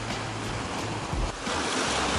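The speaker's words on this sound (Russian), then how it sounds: "И волны бьются, вообще классно." Sea waves crashing against rocks below the fortress walls of Dubrovnik, Croatia, a continuous roaring surf with wind buffeting the microphone, close and steady with a brief dip partway through.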